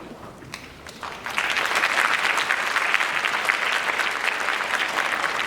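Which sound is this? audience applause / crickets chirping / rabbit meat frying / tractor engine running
audience applause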